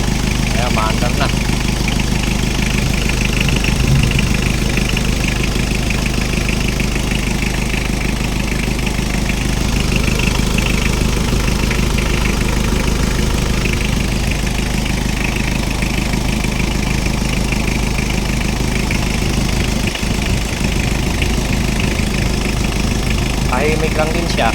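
A Mitsubishi Adventure's 4D56 diesel engine, newly converted to turbo, idles steadily and evenly throughout, a continuous low rumble at close range with faint background noise.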